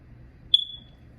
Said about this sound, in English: That thing right there, you can hear it beeping.